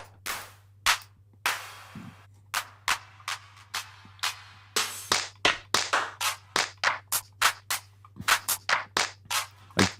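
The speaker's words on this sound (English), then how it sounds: "Let's get a clap as well." Isolated hand claps recorded as a sample, sharp dry hits in an irregular series of about two dozen, close and fairly loud over a steady low hum, with no one talking.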